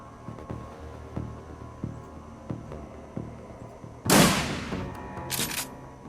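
Gunfire in the video game Shadowrun Returns: a quiet run of regular thuds over a low hum, then a loud burst of shots and a second shorter burst near the end.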